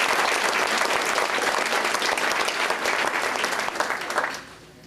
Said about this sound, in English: I think they deserve a round of applause tonight.